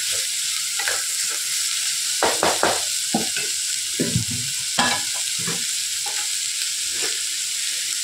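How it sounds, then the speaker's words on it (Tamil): Vegetables for a vegetable kurma sauté in a pan, with a steady sizzle under repeated scraping stirs of a spoon at an uneven rhythm, close and fairly loud, and no voices. "நல்லா வதக்கிடலாம்"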